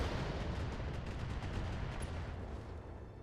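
A long-range missile barrage in the video game Battletech, a dense continuous rumble of rapid launches and impacts with crackling high rattles, loud and sustained throughout without voices.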